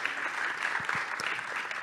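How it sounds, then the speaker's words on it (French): Audience applause at a French Tech Toulouse startup pitch event in Toulouse, a steady wash of clapping from a seated crowd at even loudness throughout, with no voices over it. "Je vous demande d'accueillir et d'applaudir Sandrine Julien-Rouquier"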